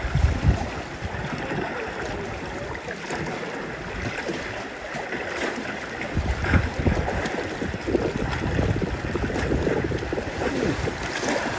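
Sea kayaks paddle through narrow rocky channels along Irish sea cliffs, with steady washing water and splashes under gusty wind noise on the microphone, close and continuous.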